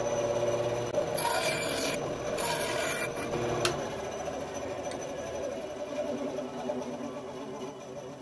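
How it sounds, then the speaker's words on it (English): Wood being cut away from a carved topwater popper lure blank with a hand tool, a steady close rasping scrape with a few sharper bursts of shaving and chopping, continuous for several seconds with no talk. "I'm just going to chop this wood off."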